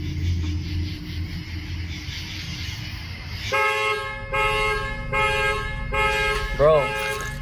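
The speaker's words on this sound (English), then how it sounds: "the fucking car is going off" A car alarm goes off with repeated loud blaring horn blasts in a steady pulsing rhythm, rising suddenly over a low rumbling background.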